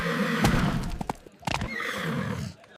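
A stallion lets out a loud, shaky neigh with several sharp bursts and whinnying breaths, close and prominent, with faint hoof clatter underneath.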